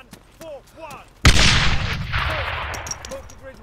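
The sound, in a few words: grenade explosion and gunfire in the video game ArmA 3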